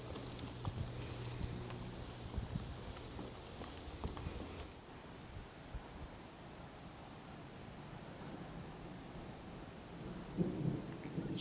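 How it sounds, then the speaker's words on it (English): Steady rain hisses over a coastal hiking trail near Fort Fisher on Pleasure Island while a low rumble of thunder rolls underneath, with a few nearby footsteps or thumps toward the end. "So of course it is starting to rain again"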